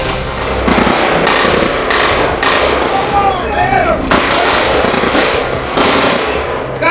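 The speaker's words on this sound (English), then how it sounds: "That was a CBS exclusive at a gunfire between police and who they believe was Chris Dorner" News recording of a gunfire exchange between police and a suspect: loud, rapid bursts of shots crack over a noisy, chaotic scene, with voices shouting underneath throughout.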